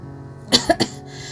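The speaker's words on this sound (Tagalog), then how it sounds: "at umubo pa" A short burst of three quick coughs comes in close succession, dry and hoarse, over a faint steady background hum.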